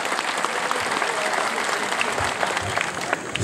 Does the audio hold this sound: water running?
no